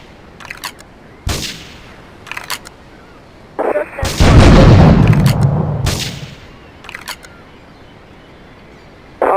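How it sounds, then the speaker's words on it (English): Gunfire and explosions at a harbor in GTA 3: sharp, loud shots crack in scattered bursts, with a heavy booming blast rumbling for about two seconds midway before more isolated shots follow. "Investigate reports of gunfire and explosions."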